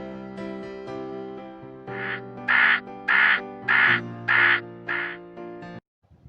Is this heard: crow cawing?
yes